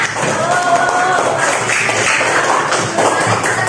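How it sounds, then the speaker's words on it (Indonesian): A classroom of students clapping together, a steady dense patter of hand claps with shuffling and a voice briefly rising over it. "Tepuk tangan dulu semuanya."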